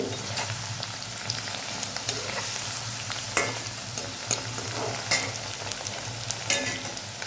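Okra sautéing in a pan for spicy kuzhambu: a steady, close sizzle of hot oil with irregular stirring scrapes and occasional spatula knocks, no voices.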